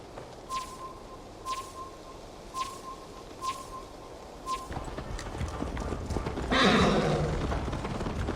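Horse hooves clop in a steady rhythm while a horse whinnies in Assassin's Creed Valhalla, with periodic beats that give way to a denser, louder rush of movement and outdoor ambience.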